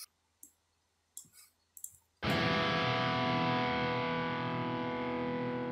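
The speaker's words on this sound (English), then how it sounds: "If you want to play huge chords with the guitar and also keep the distortion, you can just head to your amp and decrease the gain a little bit." Software metal guitar, Ample Metal Hellraiser, in a breakcore metal arrangement: after a few quiet clicks, a heavily distorted chord crashes in and rings out loud and sustained for several seconds, thick and dense, with no voice.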